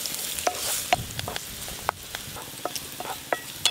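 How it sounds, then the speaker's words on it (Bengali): Chopped onions fry and sizzle in hot oil in a pan, a steady soft crackle with scattered sharper pops and occasional stirring scrapes, fairly quiet and without voices. "পেঁয়াজ কুচিগুলো ভালো করে ভাজা ভাজা তো হয়ে গেল"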